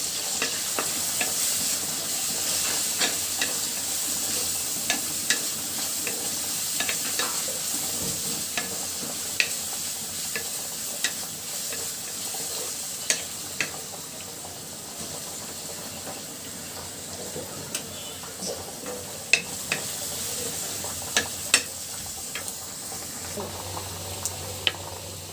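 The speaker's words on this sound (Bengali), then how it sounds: "পেঁয়াজটা কিন্তু খুব সুন্দর করে ভাজি করা আমার হয়ে গেছে" Onions frying in oil with whole cumin and bay leaf in a village-style kitchen, a soft continuous sizzle with occasional spoon clicks and stirring, fairly quiet and close, with a voice talking at times.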